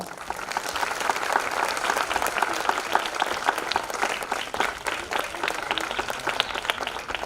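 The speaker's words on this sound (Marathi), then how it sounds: "जरा जोरदार टाळ्या वाजवा" Sustained applause from a large audience at a student awards and family gathering ceremony, dense and steady throughout, filling the hall without any break.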